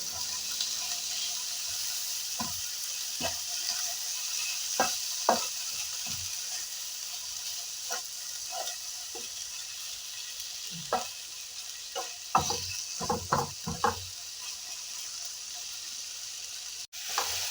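Tuna pieces with tomato being stirred in a hot pan for choora perattu, a steady soft sizzle broken by repeated scraping clicks of a spoon against the pan, close and alone.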